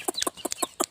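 Young Peruvian-breed chickens cluck close by in a rapid run of short, sharp clucks.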